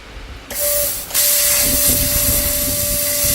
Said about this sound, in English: we're going to test out cutting out some of this non-slip steel plate here